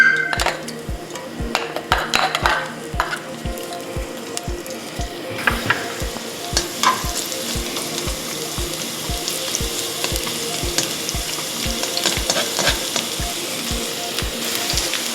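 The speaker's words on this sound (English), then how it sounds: "First thing we're gonna do is we're gonna saute our garlic." Garlic sautés in oil in a wok over medium-high heat, with a steady loud sizzle and a fast, even, repeated ticking throughout. Busier bursts of frying and utensil clatter come in partway through.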